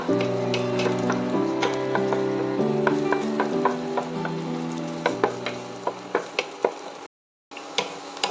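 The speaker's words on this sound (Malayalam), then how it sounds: "നമ്മൾ ചൂടായ എണ്ണയിലേക്ക് ഇഞ്ചിയും വെളുത്തുള്ളിയും തട്ടിക്കൊടുത്തിട്ട് നമുക്ക് നല്ലപോലെ വഴറ്റിയെടുക്കാം" Ginger and garlic sautéing in hot oil for Kerala-style egg rice, a close, steady sizzle broken by repeated spoon taps and scrapes against the pan, with a brief dropout near the end.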